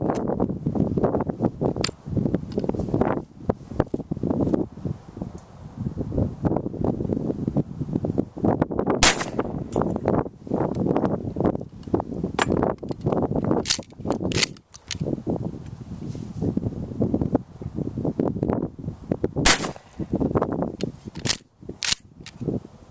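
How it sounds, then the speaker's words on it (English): Rifle shots fired from a Caldwell shooting rest at an outdoor range, a long run of sharp, loud cracks at irregular intervals over steady wind noise on the microphone. "let's go ahead, let's get a few rounds downrange, see how this works in action."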